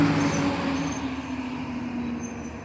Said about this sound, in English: The buses are running.